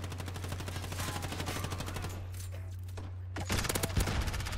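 Rapid gunfire from the mobile shooter Call of Duty Mobile, a steady run of close, fast automatic shots over a constant low game hum that grows louder toward the end.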